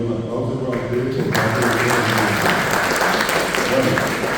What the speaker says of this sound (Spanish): También pido un aplauso para ustedes.